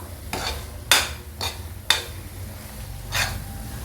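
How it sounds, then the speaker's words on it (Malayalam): Coriander leaves being stirred into chicken biryani in a pot, giving a few soft scraping strokes with light sizzling, close and fairly quiet, with no talk. "നന്നായിട്ട് മിക്സ് ചെയ്തെടുക്കാം."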